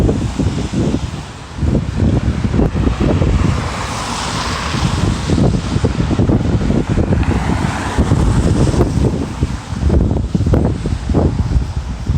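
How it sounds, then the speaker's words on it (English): Wind blowing outdoors, buffeting the microphone in loud, gusty rumbles that rise and fall continuously, with a rustling, surf-like texture over the low roar. "is windy out here"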